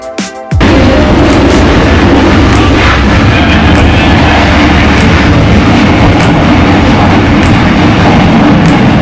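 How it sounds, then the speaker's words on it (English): Steady rumble of a train rolling along the tracks in Vietnam, with faint periodic clicks from the rails over a continuous low roar, heard from inside. "This whole train ride really makes me think"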